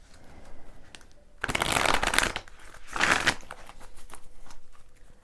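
Oracle animal cards are shuffled in two quick close bursts, a crisp riffling flutter for about a second each with a brief pause between.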